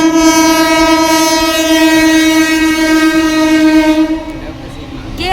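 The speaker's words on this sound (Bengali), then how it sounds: "এত হর্ন দেওয়ার কি আছে" A loud, sustained train horn blares steadily for about four seconds nearby, then cuts off, leaving rumbling background noise.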